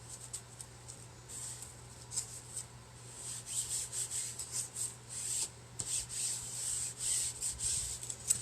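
Soft, rhythmic rubbing as vinyl lettering is smoothed down onto a wooden sign, quiet repeated strokes that grow steadier and a little louder over time.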